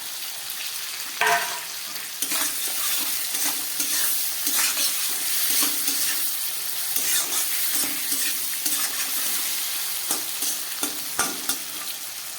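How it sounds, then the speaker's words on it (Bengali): Fried pointed gourd and spices sizzle loudly in a pan while a spoon stirs them, making repeated scraping strokes over a constant close frying hiss. "এবার দিয়ে দিচ্ছি ভেজে রাখা পটলটা।"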